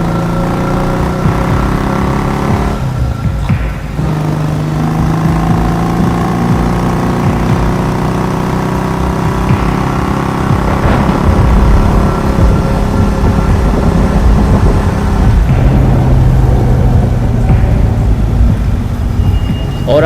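An old motorcycle engine runs with a low, steady drone that rises and falls in pitch. It is heard close and loud against a dense wash of rain and stormy ambience on a dark night.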